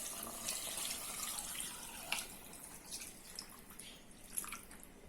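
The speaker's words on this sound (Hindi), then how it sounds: "अब इसको मैंने भूना है और इसमें अब पानी शामिल करते हैं।" Water poured into a pot of roasted mutton while cooking kunna gosht, a continuous splashing, gurgling pour with scattered drips, fairly quiet and close, with no talk.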